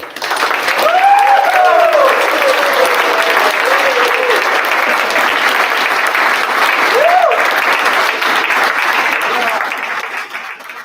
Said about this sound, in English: Ladies and gentlemen, please give a round of applause for the graduates.